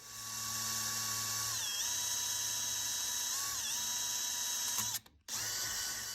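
A power drill runs steadily while boring holes through a carbon fiber plate for an intake, its whine shifting pitch as it bites, then cutting out briefly near the end before resuming, with no talk.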